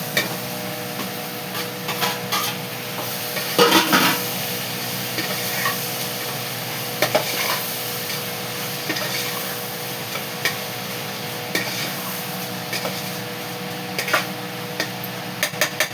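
Onion and tomato frying in a pan while stirred, a steady close sizzle broken by scattered ticks and spoon scrapes against the pan, continuous and without voices.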